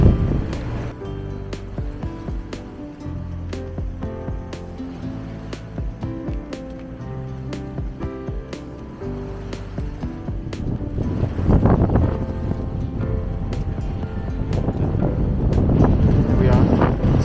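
A sailboat under way at sea on a passage toward Funchal, Madeira, with waves sloshing and wind buffeting the microphone, a faint tonal background at first and then heavier surges of water and gusts toward the end.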